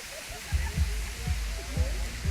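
Water flows and splashes at the Uçansu waterfall pool, a soft steady rush with low rhythmic sloshing pulses roughly every half second, fairly quiet and close.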